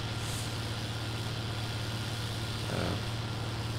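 A truck engine with a Euro-type engine in Farming Simulator 19 idles steadily, a continuous low hum that stays even and unbroken throughout.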